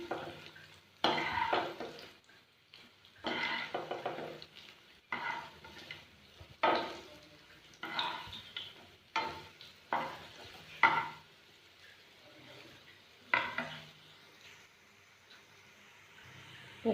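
Dal pakoras fry in a pan with hot oil sizzling under bursts of stirring and flipping, a spatula scraping and clattering against the pan in irregular strokes, close by.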